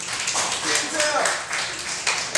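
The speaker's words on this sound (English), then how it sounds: "That was a golf clap, it should have been a tennis clap" An audience at a live comedy show gives a light, sparse golf clap, a brief patter of hand claps lasting a couple of seconds, with a voice talking over it.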